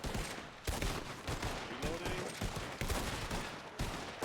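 Sustained suppressing fire in a video game firefight near a bridge, with dense, loud bursts of automatic gunfire running almost continuously and a faint voice now and then underneath.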